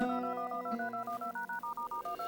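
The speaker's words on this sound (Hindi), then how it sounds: "किसका फोन है?" A telephone gives a run of short, evenly spaced electronic tones, a dozen or so quick pulses, fairly faint, with no speech.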